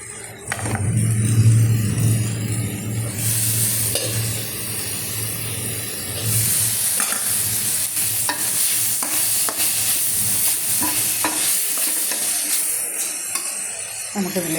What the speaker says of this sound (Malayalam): ഉള്ളിയും വെളുത്തുള്ളി ഇഞ്ചി എല്ലാം കൂടി ഇത്തിരി വെളിച്ചെണ്ണ ഒഴിച്ചിട്ട് അതിലേക്ക് വഴട്ടുകയാണ്